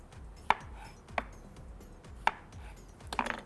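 Kitchen knife chops tomatoes on a cutting board, four sharp distinct knocks spaced irregularly over a few seconds, the last a quick double strike, close and clear over quiet room tone.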